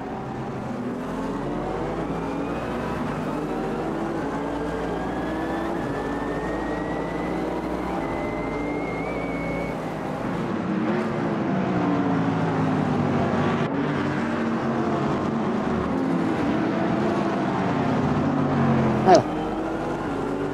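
A Porsche race car laps the Nordschleife in a racing sim, its engine droning steadily with rising and falling revs through gear changes, and a brief sharp knock near the end. Someone talks over it now and then.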